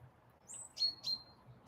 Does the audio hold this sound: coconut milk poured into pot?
no